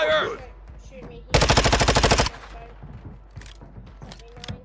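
A sharp, loud burst of close automatic weapon fire in the video game Call of Duty DMZ rattles for about a second amid quieter game sounds and faint background chatter.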